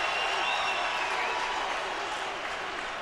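A football stadium crowd at a Packers at Bears NFL game roars and applauds in a dense, continuous wash of cheering that holds steady throughout, with voices blended into the noise.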